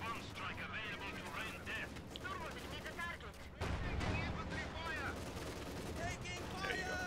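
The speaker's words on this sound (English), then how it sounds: "a Maxim machine gun getting assaulted by a Panzer IV for Frankicky" Maxim machine gun fire in the video game Company of Heroes 2 during a battle with a Panzer IV assaulting it, scattered distant shots and booms mixed with battle noise under steady game sounds, with a voice talking over it.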